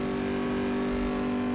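A race car engine in Assetto Corsa holds a steady, buzzing, even drone much like a jet boat, loud and unbroken through the whole clip, with no talk.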